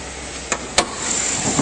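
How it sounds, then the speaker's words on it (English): A 2008 Chevrolet Avalanche engine idles smoothly under an open hood, a steady close hiss and hum with two short sharp clicks near the start. "And under the hood, nice clean engine bay, running very smoothly."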